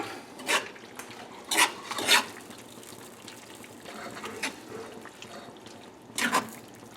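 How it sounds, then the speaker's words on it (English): A spoon mixing pasta into a tomato, garlic, onion and cheese sauce, producing several wet, clattering scrapes against the pot at irregular intervals between quieter squelching, close by and with no talking. "Get this pasta mixed in with this sauce. Use a spoon, that would be better."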